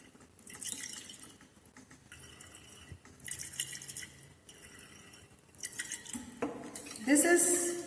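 Small drips and glassy clinks as hypo solution is titrated from a burette into a glass flask to find the available chlorine in bleaching powder, with soft handling noises that grow a little louder near the end.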